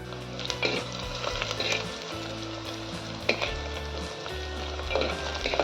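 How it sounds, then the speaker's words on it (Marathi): Onion sautéing in a pan with garlic for a wild monsoon leaf vegetable dish, giving a steady close sizzle and crackle with occasional stirring scrapes and clinks, no talking. "चला याला लाल होईल छान परतून घेऊया हे"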